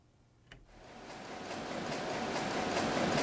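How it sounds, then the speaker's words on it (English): A printing press running Bibles in a government-sanctioned factory in Nanjing builds from quiet into a loud, dense mechanical roar, with a steady whooshing churn and faint rhythmic beats underneath. "this sound would have been unimaginable here in China because it's the sound of Bibles being printed in a factory"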